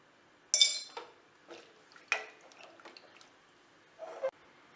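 A metal lid is set onto a cooking pot of sambar holding vegetables, water and turmeric: a sharp bright clink, then lighter scattered metallic taps and rattles, and a final clatter as it settles.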